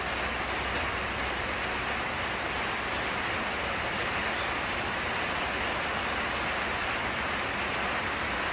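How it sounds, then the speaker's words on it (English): Steady rain pouring down at an outdoor construction site in Surin, Thailand, a continuous dense hiss of drops filling the air evenly throughout, with no voices. "More rain."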